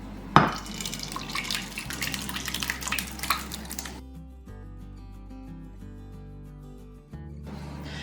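Wet oatmeal batter slops and drips into an 8x8 baking pan, with soft splashy pours and a light clink of the dish early on, then quieter trickling toward the end.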